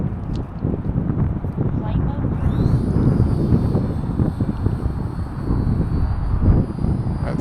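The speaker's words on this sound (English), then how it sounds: "That's full throttle right now, and I'm not doing much." A small Volantex P51D Mustang 400mm RC plane flies at full throttle on a windy winter day, its high electric motor whine rising in the distance over heavy, constant wind buffeting the microphone.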